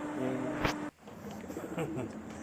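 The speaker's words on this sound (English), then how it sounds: "Look, my bird." A pigeon coos softly a few times at a distance, low and rounded, amid quiet outdoor background noise.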